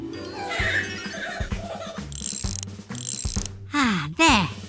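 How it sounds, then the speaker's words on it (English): Cartoon ratcheting wrench turning gears in a garage, giving a run of clicking, clanking mechanical ratchet sounds with bright squeaky tones, loud and close with no talk. "To clench, to lift up this wrench."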